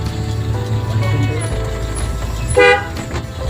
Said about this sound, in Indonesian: wah ulah di klakson atuh